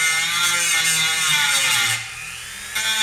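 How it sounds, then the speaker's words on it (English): A Dremel rotary tool at low speed grinds bulk wood away while shaping a jaw harp, a loud steady high whine with a brief dip in pitch and level near the end, close up and with no talking. "I don't have as much precision with the Dremel. Just using it to remove the bulk."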